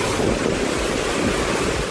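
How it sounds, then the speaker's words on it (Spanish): Strong, steady rush of water from a swollen river, a dense continuous roar with no break over the full two seconds, loud and close, with a windy edge and no voices. "¿El agua fuerte del río crecido?"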